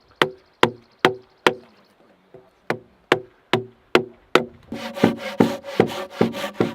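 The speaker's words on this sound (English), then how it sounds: "what we need to do now is we need to cut the tenon" A tenon being cut into a log for a single log bridge: about a dozen sharp, evenly spaced woody strikes ring out alone, then give way to faster, denser cutting strokes near the end.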